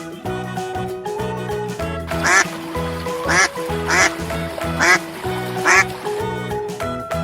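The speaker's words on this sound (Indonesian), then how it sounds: "Bebek." Cartoon-style duck quacks, five bursts spaced about a second apart, set over bright children's background music in an animal-sounds lesson for kids.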